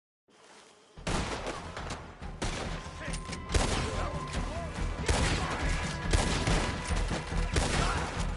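Sustained gunfire from a shootout in Red Dead Redemption 2, with volleys of shots cracking nearly continuously and loudly from about one second on, mixed with scattered crashes and occasional shouting.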